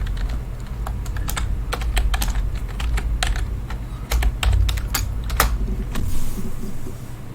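Rapid bursts of keyboard typing in the video game Her Story, uneven clusters of sharp clicks close to the microphone over a steady low hum, with pauses between runs of keystrokes.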